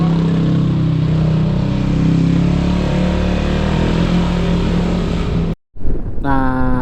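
Engine drone of three motorcycles setting off together on a road in Sumedang, a steady loud hum with wind buffeting the microphone, cutting briefly to silence before a voice and engine noise resume near the end.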